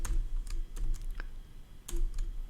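Typing on a computer keyboard during a programming lesson: quick clusters of close, crisp key clicks with short pauses between bursts, loud and clear with no talk.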